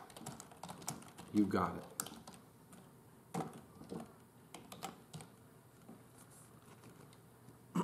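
A computer keyboard clatters as a print statement is typed, soft quick key taps in short bursts at close range, faint overall, with a brief spoken phrase in between.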